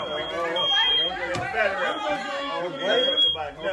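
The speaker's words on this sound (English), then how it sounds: "they set the fire alarm off with them." A fire alarm set off indoors during a birthday gathering sounds a high, shrill electronic beep that cuts in and out beneath loud overlapping chatter and voices.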